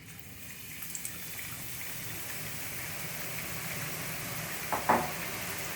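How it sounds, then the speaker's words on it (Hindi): Gram-flour boondi batter fries in hot ghee over high heat, giving a steady, soft bubbling hiss with a short louder crackle near the end. "देखिए घी गरम हो गया है और हम इसमें बूंदी बनाएंगे।"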